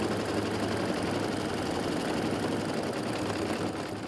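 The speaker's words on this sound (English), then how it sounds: "Attach the hoop to the machine and load the design." An embroidery machine stitches a design onto fabric held in a hoop for a fabric basket project, giving a fast, steady mechanical whirring and needle rattle that runs without pause.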